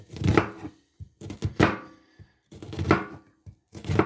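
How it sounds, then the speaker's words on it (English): A knife chops vegetables for mushroom soup on a cutting board, with quick bursts of close, crisp thuds separated by short pauses. "We want it, we want them finely chopped. So we're just going to get these chopped here."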